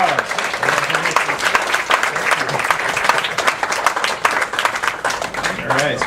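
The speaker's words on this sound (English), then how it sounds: "Give them a big round of applause" Audience applause for award recipients at a nutrition program ceremony: a lively crowd clapping, loud and near, irregular and sustained, with a voice speaking over the clapping toward the end.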